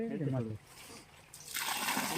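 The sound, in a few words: water poured onto a jackfruit sapling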